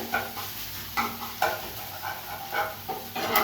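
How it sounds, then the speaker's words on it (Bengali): Food in a frying pan is stirred with a utensil, which scrapes rhythmically about six times over a low sizzle. The scrapes are close and fairly loud, and no one talks. "ভালো করে নেড়ে নিয়ে"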